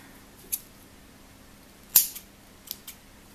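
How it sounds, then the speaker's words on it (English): Blunt scissors cutting crochet yarn, a handful of separate sharp snips and clicks, one louder than the rest, close by with quiet between them. "And my scissors are so blunt."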